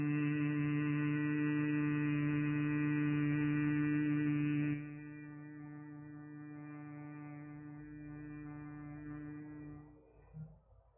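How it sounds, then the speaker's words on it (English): A person hums gently during meditation, a steady, sustained tone held for several seconds that then softens into a quieter, lingering hum before trailing off near the end. "making the humming sound gently for a longer period"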